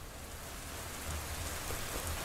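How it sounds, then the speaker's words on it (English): Steady rain falls at night along a route, a dense continuous hiss of drops with a low rumble underneath, even and fairly loud throughout with no voices. "Suddenly, the rain started to fall again."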